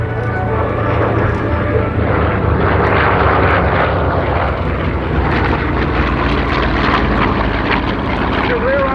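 Vintage piston-engine warplanes fly past at the 2019 Rochester International Airshow, a loud, steady propeller drone that fills the whole stretch with no break.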